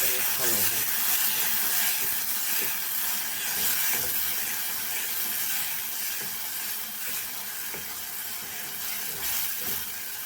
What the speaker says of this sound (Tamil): நல்ல மசாலா வந்து அப்படியே எண்ணெயில் வதங்கிட்டோம்